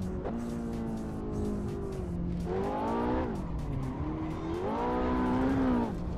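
A Ferrari in Assetto Corsa drifts with a rising and falling engine whine and steady tire squeal through the whole stretch, loud and continuous with no talk.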